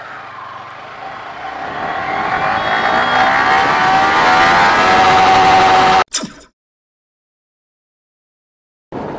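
A Yamaha R15 V3 motorcycle pulls hard in first gear toward top speed, its engine note climbing steadily and loud for about six seconds before cutting off abruptly into silence, with the engine returning faintly at the end.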